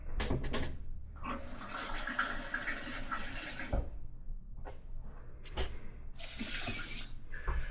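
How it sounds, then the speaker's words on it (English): Water pours steadily into a rice cooker pot holding 1 cup of rice, a continuous splashing stream with brief pauses and a sharper gush near the end, close and fairly loud with no talking. "we're going to add 1 cup of water"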